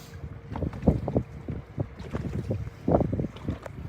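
Strong wind buffets the microphone on a boat out on Reelfoot Lake, producing loud, uneven low rumbling gusts that swell and fade throughout.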